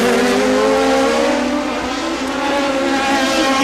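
Formula Atlantic race cars, Toyota-powered, scream past together at the 1990 Toronto street race, loud high-revving engines changing pitch as a close group of three goes by.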